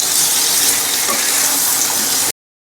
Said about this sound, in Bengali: এবার আমি ভেজে রাখা মোচা আর আলুটা এবার দিয়ে দিচ্ছি। এতে ভালো করে মশলার সাথে এটাকে আমি মিশিয়ে নেব।